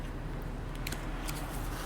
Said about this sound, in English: I'm going to cut this in half